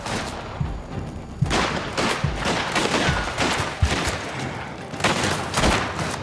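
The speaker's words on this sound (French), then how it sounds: "Ouh, il m'a tiré dans le cerveau." Gunfire from the Mafia video game crackles in a dense run of sharp shots, roughly a dozen bursts in six seconds over a constant loud background of in-game noise, with no one speaking.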